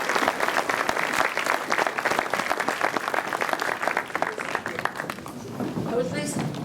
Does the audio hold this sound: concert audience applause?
yes